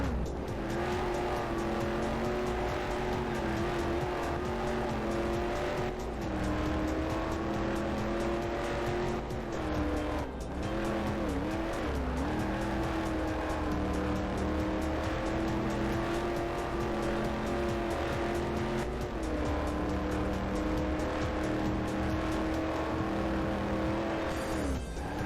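Race cars lapping a circuit endurance event in the PC game Corvette: 50th Anniversary, engines droning loud and steady throughout with occasional tire squeal, under a continuous music track and no talk.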